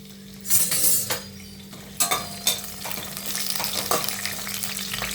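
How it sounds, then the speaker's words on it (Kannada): Whole spices sizzle in hot oil for a fenugreek-leaf and field-bean pulao, a steady frying hiss under repeated close scrapes and clinks of a spoon stirring in the pan. "ಆಯಿಲು ಹೀಟಾಗಿದೆ ನೋಡಿ, ಓಲ್ಡ್ ಸ್ಪೈಸ್ ಹಾಕೋತೀನಿ"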